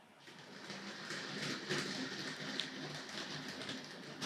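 A Hornby GWR 0-4-0 tank locomotive model rolls over track points with light, quick clicks above a steady whirring motor hum, close and moderately quiet, and nobody talks.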